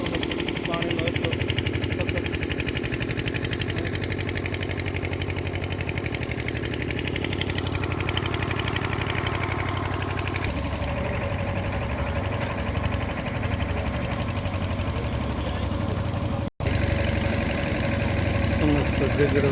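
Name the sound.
water pump engines running at a flooded crossing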